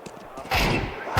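Gunshots in a Counter-Strike match, a couple of short sharp reports then a heavier burst of fire, close and punchy, over a muffled game backdrop.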